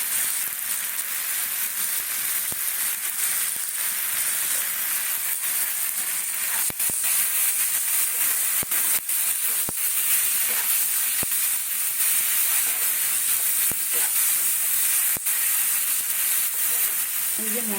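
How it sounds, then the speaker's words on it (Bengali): Spice masala with turmeric and ground coriander frying and sizzling steadily in a pan while chicken is being cooked, a continuous close hiss with occasional stirring clicks and no talking. "মশলাটা ভাজা হচ্ছে"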